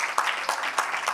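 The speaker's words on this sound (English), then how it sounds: "A round of applause." Audience applause at an evening talk at the Brooklyn Museum on an Africa fashion exhibition, a brief burst of quick, close claps lasting about a second.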